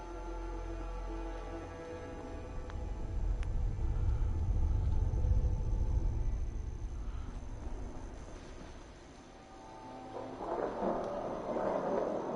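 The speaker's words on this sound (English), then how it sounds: "That's a rad storm." Rad storm thunder in Fallout 4 rolls as a long, heavy low rumble that swells through the middle and eases off, with a brighter crackling burst near the end and no talking.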